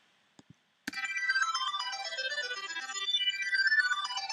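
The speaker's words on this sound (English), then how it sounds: "So we've got this kind of interesting sound sucking back into itself" A reversed synth arpeggio swells up in a rapid stepping run of bright tones after a couple of soft clicks, sustaining evenly for several seconds.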